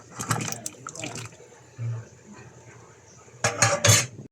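Chunks of papaya dropped into a pot of chicken cooking on the stove, giving a few clattering, splashing clunks early and again near the end, with softer pot noise between.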